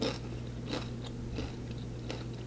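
Close, wet chewing and biting on food, a few crunchy bites spaced through the moment over a steady low hum, with no talking.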